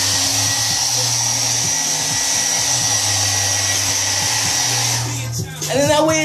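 A hair dryer blows with a steady, loud whoosh for several seconds, then cuts off as a voice speaks briefly at the end.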